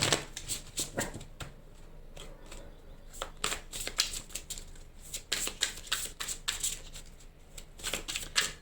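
Angel tarot cards being shuffled and handled close up, a run of quick crisp riffling and snapping bursts in irregular clusters, no talking.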